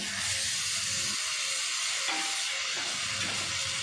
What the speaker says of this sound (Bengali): এবার দিয়ে দেবো কেটে রাখা টমেটো।